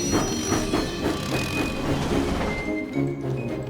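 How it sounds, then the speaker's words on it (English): Cartoon steam engine rolling along the rails with its two coaches, a loud, close rhythmic chugging and clattering of wheels with steady pulses and a squealing tone near the end. "Thomas huffed happily out of the steamworks with Annie and Clarabelle"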